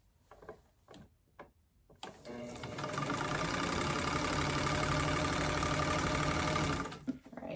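An older sewing machine starts after a few soft clicks and handling noises, then runs in a steady, fast rhythmic clatter for several seconds before stopping.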